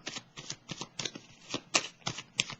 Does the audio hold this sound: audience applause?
no